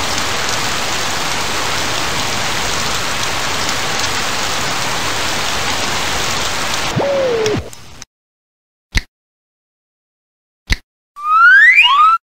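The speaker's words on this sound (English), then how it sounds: "Today is hot with heavy rain and light winds." A heavy-rain sound effect from children's science software plays as a dense, steady downpour for about seven seconds and then cuts off, followed by brief clicks and a springy boing-like effect.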